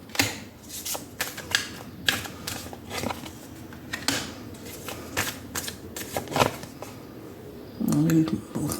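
Tarot cards being shuffled and handled in a series of crisp riffling and slapping bursts, close and fairly loud, with a voice speaking briefly in between during a crystal reading.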